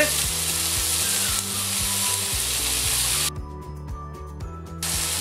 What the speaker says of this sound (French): on va faire tout revenir tranquillement